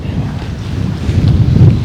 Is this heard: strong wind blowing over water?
yes